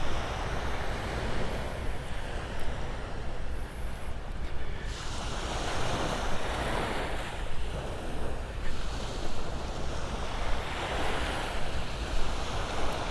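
Ocean waves wash onto Vanderbilt Beach on Florida's Gulf coast, steady surf with a continuous roar and gusty wind buffeting the microphone, with no voices.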